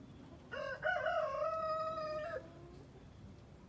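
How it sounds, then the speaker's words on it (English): A chicken in a homestead nesting box lets out a loud, drawn-out crowing call lasting nearly two seconds, close and clear over a quiet barnyard background, with no one speaking. "She's one of our more stubborn chickens."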